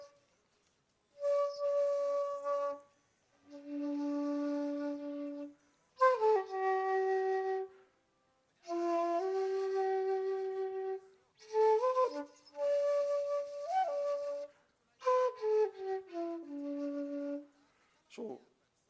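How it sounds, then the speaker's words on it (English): A shakuhachi, the end-blown Japanese bamboo flute, plays a slow solo phrase of breathy sustained notes that bend and slide between pitches, separated by short pauses, close and clear with no talking. "that's the sound of the shakuhachi."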